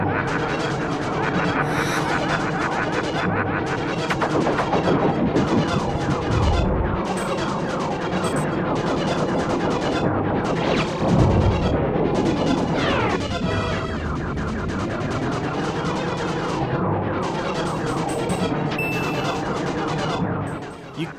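Continuous blasting gunfire and crashing impacts during the Andross boss fight in the SNES game Star Fox, dense and busy over game music with occasional louder explosions.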